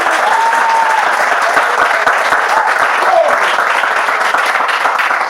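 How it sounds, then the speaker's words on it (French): A crowd claps loudly and steadily at a Bible quiz event, a dense, even wash of applause that holds at full strength throughout, with a voice faintly beneath it. "On peut tout de même l'applaudir très fort."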